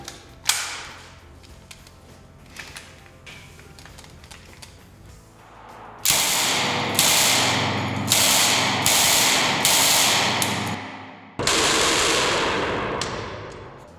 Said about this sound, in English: We'll run a couple of burst fire through it with a magazine